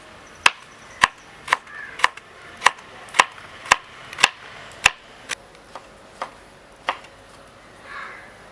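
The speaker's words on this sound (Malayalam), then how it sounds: "ചെറുതാക്കി അരിയാം." Vegetables chopped finely with a knife for an egg dosa meal, about fourteen crisp, evenly spaced strokes close up that slow slightly toward the end, with no talking.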